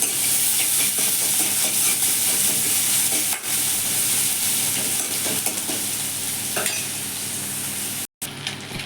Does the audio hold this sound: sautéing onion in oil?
yes